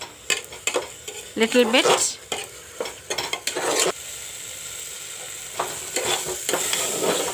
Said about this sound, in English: And fry the arahar ki daal